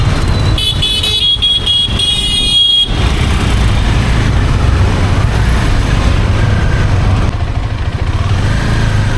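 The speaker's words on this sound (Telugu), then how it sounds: "Enjoy the traffic man." Dense Bengaluru road traffic heard from a motorcycle, a loud continuous rumble of engines with several bright car horn honks near the start and more faint toots later.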